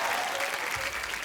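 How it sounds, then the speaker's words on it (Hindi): Studio audience applause at a comedy talk show fills the moment with a dense, steady roar of clapping heard close up. "सो आप सबकी जोरदार तालियों के बीच फ्लाइंग जट मिस्टर टाइगर"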